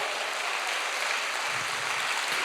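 Church congregation applauding during a worship service, a dense continuous wash of many hands clapping, even and sustained at moderate loudness with no speech over it.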